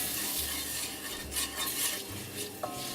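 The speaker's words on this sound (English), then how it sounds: "So I'm now going to tip in the spices, give them a good stir around" Spices being stirred into softened vegetables in a hot pan, steady scraping and stirring over a soft sizzle, close up with no talking.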